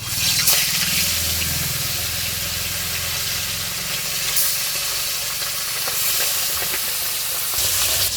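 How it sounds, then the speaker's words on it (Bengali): Salted, turmeric-coated tilapia fries in hot oil, giving a steady, close sizzle and hiss that carries on evenly throughout. "মাছ ভাজা হয়ে গেছে"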